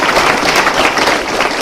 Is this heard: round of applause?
yes